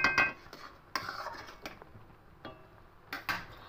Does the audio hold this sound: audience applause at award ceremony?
no